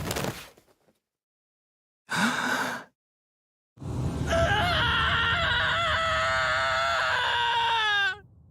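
A character in the video game AI: The Somnium Files screams: two short sharp cries separated by silence, then a long, loud, sustained shriek that wavers in pitch and cuts off abruptly.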